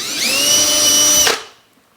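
A power drill boring a pilot hole whines at a steady high pitch for just over a second, then cuts off and winds down, close and alone.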